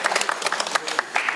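Audience applause at a civic discussion forum in a hall, a short burst of scattered hand claps with irregular, uneven rhythm, moderately loud and close.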